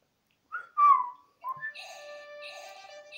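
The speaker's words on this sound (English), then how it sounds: "It should have done the full whistle" A whistle from the video game The Story of Thor: two short warbling tones, then a longer, steadier whistled melody that holds on and cuts off at the end, clear and alone with no talking.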